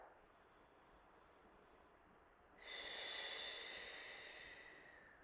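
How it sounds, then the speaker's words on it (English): A slow, deep breath taken during a stretching routine: a soft, airy inhale and a long, louder exhale rushing out near the microphone, with no talk. "now we're going to take those 4 deep breaths"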